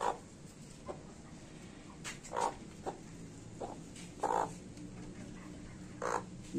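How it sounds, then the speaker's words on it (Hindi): A brooding hen clucks in short, scattered calls at close range, with quiet pauses between them and a low background hum. "ये मुर्गी आप देख सकते हैं"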